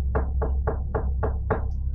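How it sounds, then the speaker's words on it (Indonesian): Six evenly spaced knocks on a back door, firm and close, rapping in a steady rhythm as a sound effect within a narrated story, with no voice over them. "Kembali terdengar ketukan dari arah pintu belakang."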